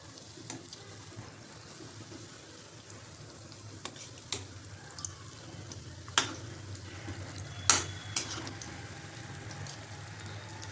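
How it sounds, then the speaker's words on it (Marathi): Fasting cutlets and mini sabudana vadas deep frying in hot oil, with a steady soft sizzle and bubbling plus occasional sharp pops and utensil taps, fairly quiet and close. "छान तळून घ्यायचेत आपल्याला"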